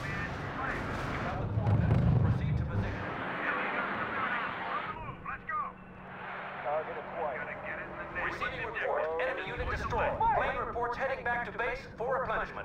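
Artillery in the World War II strategy video game R.U.S.E. during the Battle of Cherbourg fires heavy, low booms that rumble beneath near-continuous radio-style voices giving commands.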